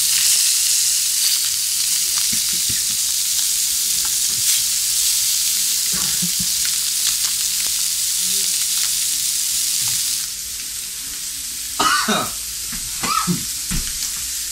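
Fish sizzles and fries steadily in a hot pan in a small home kitchen, a constant loud hiss with a few clinks and brief stirring or handling noises near the end.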